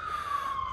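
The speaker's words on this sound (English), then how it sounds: "We have an ambulance coming around to this side of the building" Ambulance siren at a building fire, a steady wailing tone that slides slightly in pitch and holds loud and close throughout, with no voices over it.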